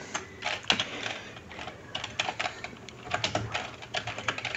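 Fingers type on a computer keyboard in quick, uneven bursts of close clicks, with brief pauses between runs of keystrokes and no talking.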